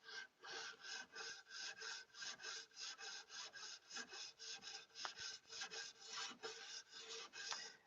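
Sword blade stroked along the full length of a sharpening stone in steady, even back-and-forth rasping passes, close and quiet, about two strokes per second with no talking.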